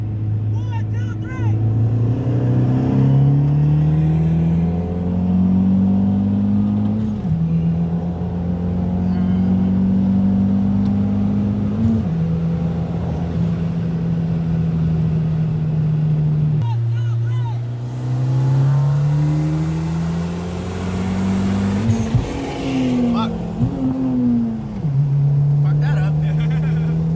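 A 2020 Ford Mustang GT with a 10-speed gearbox and an E30 WRX launching off the line, engines roaring close and loud with rising pitch through repeated gear shifts, overlapping engine notes and people talking at times.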